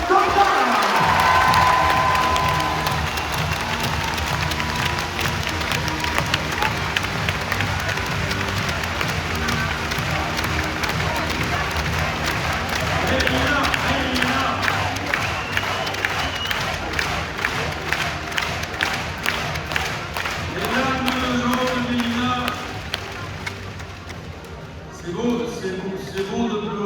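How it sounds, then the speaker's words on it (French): Arena crowd at an end-of-season basketball ceremony applauding and cheering a departing player, loud sustained clapping and shouts filling the hall, with an announcer's voice over it and the noise dropping off near the end. "Un maximum d'applaudissements pour Mélina Corda."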